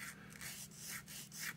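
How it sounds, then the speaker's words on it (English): Quick little strokes of a sanding stick rubbing a small model part, a steady run of short rasping passes that swell and fade in a regular rhythm, close and fairly quiet with no voices. "quick little strokes on the sanding stick"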